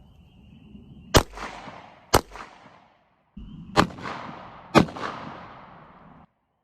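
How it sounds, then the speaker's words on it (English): Two sharp 9mm hollow point pistol shots fired into walls ring out about a second apart, then after a brief gap two more loud cracks follow, each with a short echoing decay over low background noise. "All right, 2 rounds of 9mm hollow point."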